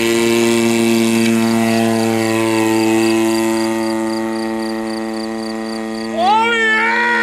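A 1.5 m Black Horse Pitts Special RC biplane with an RCGF 26cc gas engine flies on its maiden flight, giving a loud, steady high-pitched engine drone. The pitch slides down gradually, then rises sharply near the end as the throttle opens.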